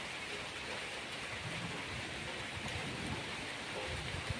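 Steady heavy rain in Tamil Nadu roars as a dense, even hiss, with no pauses and no voices.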